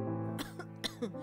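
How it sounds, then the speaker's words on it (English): Coughing from an ill young woman with a lung condition, two or three harsh close bursts breaking into a soft sustained tone, fairly quiet, with no talk over them. "You cough again and again."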